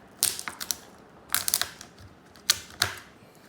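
A knife cuts through a cooked mud crab, dividing it into pieces with swimmer and back leg and claws, giving a few quiet, sharp crunches and cracks of shell in short clusters.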